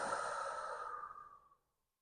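A single long exhale during a gentle yoga session, a soft airy breath close to the listener that fades out into silence.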